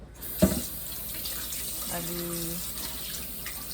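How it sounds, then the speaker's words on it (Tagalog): Tap water runs briefly into a sink while vegetables are rinsed, a soft splashing stream under someone speaking Tagalog nearby. "hugasan ko ulit siya dito. Babanlawin ko ng 2 banlaw"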